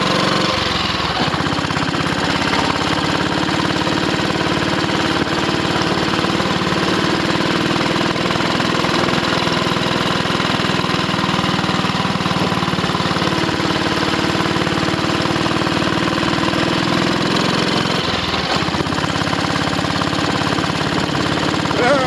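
A 500cc Ariel motorcycle engine runs steadily on a test ride, a loud, close, continuous single-cylinder drone with a slight dip near the end and wind noise, with no talk.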